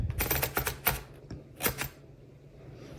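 Crisp mechanical clacks of a 1924 Remington Portable manual typewriter's keys strike in a quick irregular burst, then slow to a few isolated taps, with a small ding at the end.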